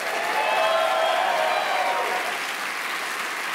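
A studio audience at a live television comedy show in Berlin applauds steadily for several seconds, a dense, loud wash of clapping with no voices standing out.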